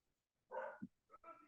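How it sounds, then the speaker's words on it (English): A dog gives a couple of short, faint barks indoors, quiet and somewhat distant, with a small yip between them. "I hope you can hear my dog barking."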